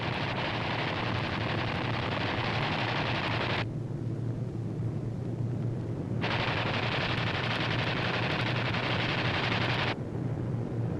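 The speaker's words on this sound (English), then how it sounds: "These B-25s are carrying out low-level strafing operations against Jap surface vessels" WWII B-25 bombers strafe at low level with machine guns, a dense, loud, continuous roar of gunfire and engines in two long bursts separated by a short drop in intensity, with no voices.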